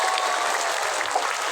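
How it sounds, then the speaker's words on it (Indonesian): An audience at a village Isra Mi'raj religious gathering in Mesuji applauds steadily, a brief dense wash of clapping heard up close with no talk over it. "tepuk tangan buat Bupati kita."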